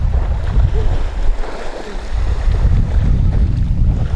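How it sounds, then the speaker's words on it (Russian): An evening breeze buffets the microphone at a seaside beach, a steady low rushing gust with waves washing in underneath, loud and continuous, with no talking. "Вот ветерочек к вечеру поднялся."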